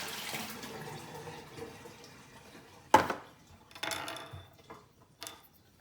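Water is poured out of the drip tray of a Nespresso Lattissima Touch pod machine after descaling, a soft trickle followed by a sharp clunk and a few splashing, clattering handling noises.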